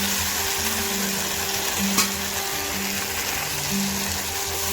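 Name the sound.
stirring pointed gourd and potatoes with spices in pan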